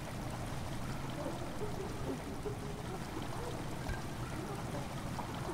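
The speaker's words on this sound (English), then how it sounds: "The water's beginning to slowly fill the chamber." Water slowly flowing and filling a flooded chamber in the horror game Amnesia: The Dark Descent, a steady low trickling and streaming wash that continues evenly throughout with no talking.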